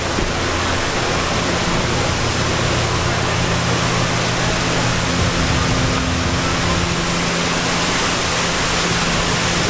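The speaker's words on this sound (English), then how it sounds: "Waterfall." A waterfall pours in a steady, dense rush of falling water, loud and unbroken from start to finish, with no voices.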